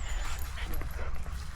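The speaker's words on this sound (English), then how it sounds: "This is their wild dog." A farm dog whimpers and yips faintly outdoors over a strong low wind rumble, short soft whines scattered through the moment, distant rather than close.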